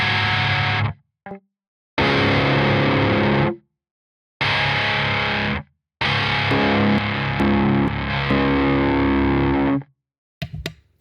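Distorted electric guitar tones from NAM amp captures ring out in several loud bursts separated by sharp silences, with thick sustained chords and a brief clipped stab near the end.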